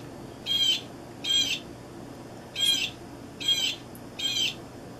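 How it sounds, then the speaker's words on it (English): Five short, evenly spaced squawking calls from an Audubon stuffed blue jay toy that plays a bird call when pressed, clear against a low indoor hum. "So when we push the bird call, it must be realistic because our kitties go nuts."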